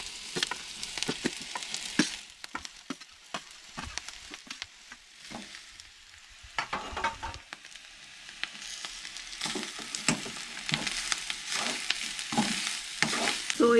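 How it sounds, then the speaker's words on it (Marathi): Soy chunks frying with onion in a pan for a Goan red amaranth curry, with a steady close sizzle broken by frequent scraping stirs of a spoon against the pan, no talking. "सोबरी परतून घेऊन जाय सोय आमची."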